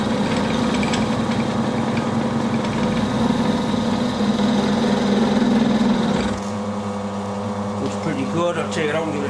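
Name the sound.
metal cutting on a milling machine with a dividing head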